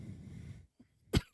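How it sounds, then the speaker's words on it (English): A single short, sharp cough bursts out near the end after a stretch of low background rumble and a faint earlier throat noise, heard close and fairly loud. "You still got that cough?"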